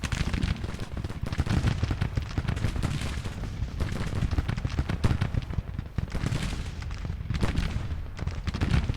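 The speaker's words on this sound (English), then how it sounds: "Keep shooting them, boys, just keep shooting." Dense, continuous musket volleys crackle and rumble through a Civil War battle in a strategy video game, many distant shots blending into a steady roar with no talk.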